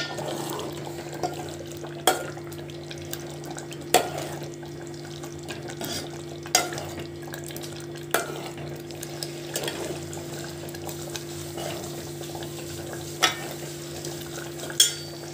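A spoon stirs frying egg masala curry, a Telugu egg pulusu, in a pan, giving repeated clear scrapes and knocks every couple of seconds over a steady sizzle and hiss, close up with no voices.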